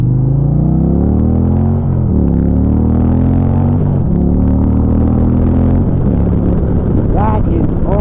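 Indian Challenger motorcycle engine pulling hard through a series of upshifts, its loud rumbling note climbing and dropping at each gear change, close and steady with wind noise.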